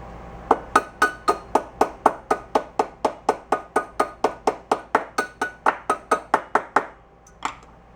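A hammer strikes a part of a 1972 Honda SL 125 motorcycle in a fast, even run of about two dozen sharp metallic taps close by, then stops, with one last tap after a short pause.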